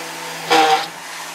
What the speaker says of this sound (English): I'm just going to use this little drill